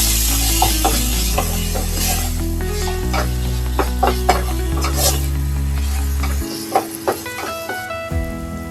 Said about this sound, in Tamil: சேர்த்து அப்படியே நல்லா வதக்கிக்கலாம்